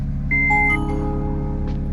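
A train-style melody box installed in a running car plays a short electronic chime of a few clear tones over a steady low engine hum, with no one talking.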